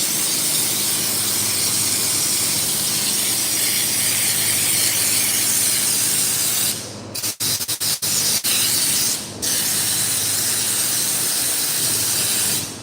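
A spray gun hisses loudly and steadily as it sprays bedliner onto the front inner fenders of a 1963 Impala, running with too much air pressure. A broad, constant rush briefly cuts out in several short gaps before resuming.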